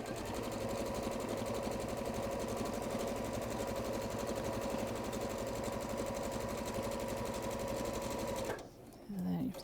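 A sewing machine top stitching fabric runs in a steady, close, continuous whir for most of the stretch, then stops abruptly near the end with a brief clatter.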